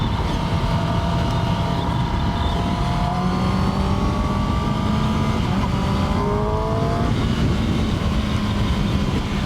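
Kawasaki Ninja ZX-10R sport motorcycle engine, 2024 40th-anniversary and 2016 models, revving steadily with rising and falling pitch sweeps, loud and continuous under a constant rumble, no voices.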